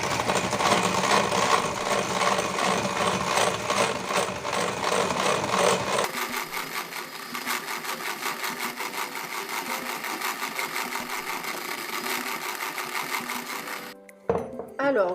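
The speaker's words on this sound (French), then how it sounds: "Et là je vais venir blanchir au fouet électrique." Electric whisk beating madeleine batter in a bowl, a loud continuous whirring buzz with rattling beaters, shifting to a softer, lower whir partway through before a short break at the end.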